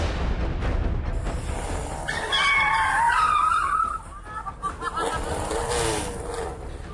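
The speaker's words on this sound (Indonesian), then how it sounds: "Aksi drifting atau mengepot yang dilakukan sopir angkot di Jalan Raya Tentara Pelajar Tanah Sereal Bogor ini viral di media sosial" Angkot minibus drifting at speed on Jalan Raya Tentara Pelajar, Tanah Sereal, Bogor, its tires letting out a loud, wavering skid squeal over road and engine noise, with a brief sharp burst near the end.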